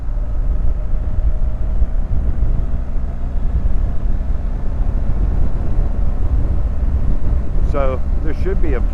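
A 2019 BMW R 1250 GS rides along Highway 98, its steady low engine hum buried under constant heavy wind buffeting at the helmet, with a brief voice near the end.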